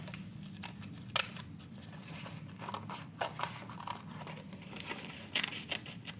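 Scissors snip through thin material for a dollhouse miniature, a few crisp close cuts spaced over a quiet room background.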